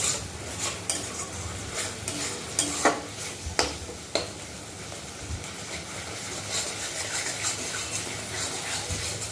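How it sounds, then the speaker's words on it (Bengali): Food being stirred and fried in a pan until the oil separates, with a steady sizzle and sharp metallic scrapes and clinks of a spoon against the pan, loud and close, no talking. "এটাকে ভালো করে যতক্ষণ তেল না বেরোচ্ছে ততক্ষণ এটাকে ভাজা ভাজা করে নিতে হবে"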